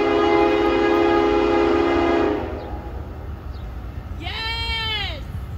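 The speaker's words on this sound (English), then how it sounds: "Spectator has a little wooden train whistle in the background." A small wooden train whistle, blown by a spectator trackside on a busy Norfolk Southern line west of Reading, gives one wavering, rising-and-falling toot after a passing train's loud horn chord fades under outdoor rumble.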